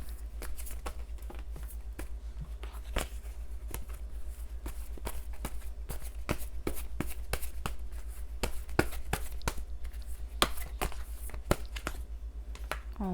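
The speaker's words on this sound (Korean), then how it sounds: "일단은 그럼 3번님에게 드릴 수 있는 이 관계상의 조언 카드 뽑아보도록 할게요" Tarot cards are shuffled and drawn during a relationship reading, giving soft, quick paper snaps and flicks in an irregular run of taps over a low steady hum.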